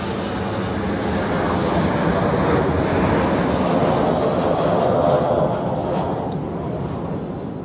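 A KLM Boeing 737 airliner at Zurich Airport, its jet engines giving a loud, continuous broadband roar that stays near and steady before easing slightly at the end.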